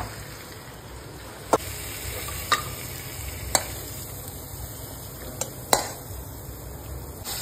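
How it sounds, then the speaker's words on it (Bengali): Mutton being slowly sautéed in a pan gives a steady low sizzle, broken by several sharp clinks of a spatula against the pan at intervals. "10-15 মিনিট ধরে আস্তে আস্তে মাংসটাকে কষাবো।"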